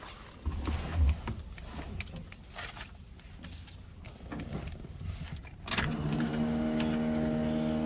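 A 1969 Chevrolet Nova two-door sedan with an electric fuel pump cranks and fires up, settling into a steady, rumbling idle that carries to the end, close by and without talk.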